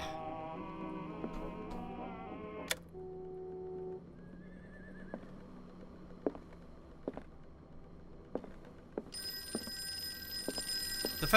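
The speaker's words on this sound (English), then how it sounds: "The phone is ringing." An old telephone bell rings in the Call of Cthulhu video game, a short burst at the start, followed by quiet ambience with scattered ticks and clicks and a brighter tone rising at the end.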